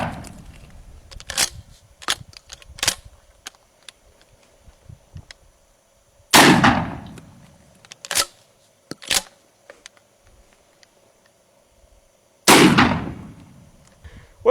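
Shotgun loaded with steel disc shot fired at a pine board from close range, two sharp loud blasts several seconds apart, with clicks and handling clatter of the gun and board between them.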